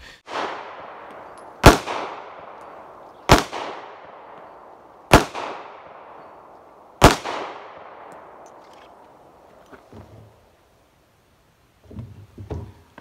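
Four sharp, loud Glock pistol shots fitted with a Timney Alpha trigger, fired at a target 15 yards away, spaced about every one and a half to two seconds, each ringing out with a long decaying echo, then quieter handling noises.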